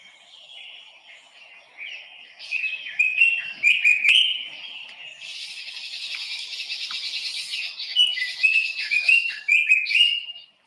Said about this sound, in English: all you just hear is the birds and the animals